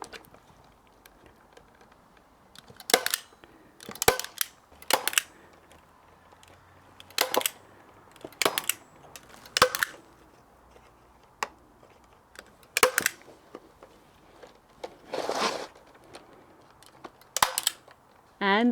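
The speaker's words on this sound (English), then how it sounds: "All you need to do is just attach that with a nice staple gun." A staple gun fires repeatedly to fix a pine cone insect hotel in place, each shot a sharp, close snap, spaced irregularly a second or two apart across a quiet background.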